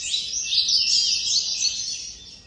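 A blue-black grassquit (tiziu) sings a continuous high, buzzy trill, close and fairly loud, with no other sounds around it.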